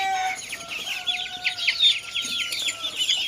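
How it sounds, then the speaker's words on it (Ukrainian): Several young chickens, including Brahma and Amrock breeds, cluck and chatter continuously, fairly close, with no voices. "ці елітні курчата, тут і американи і і брама"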